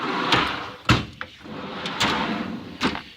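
A tool box drawer sliding open, with metallic scraping and clunks, a sharp knock near the start and further rattling bumps and a final clack, close and fairly loud, no speech.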